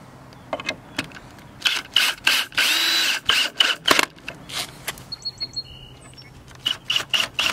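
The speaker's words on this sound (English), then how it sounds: "now we're just gonna screw this all down to the 4x4s." A power drill drives screws into 4x4 posts outdoors, firing in a string of short, loud whirring bursts with brief pauses between them and one longer sustained run partway through.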